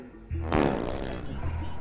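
A cartoon fart gun from Despicable Me lets out a loud, sputtering fart blast lasting about a second, rising suddenly over a low hum and then trailing off into a buzzy rumble.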